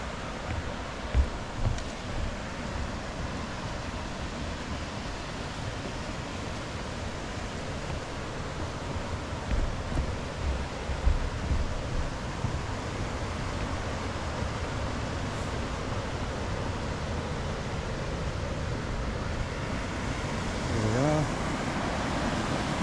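Steady broadband rush of falling water at Ellenborough Falls waterfall, a continuous roar with no clear breaks, with a faint voice briefly audible.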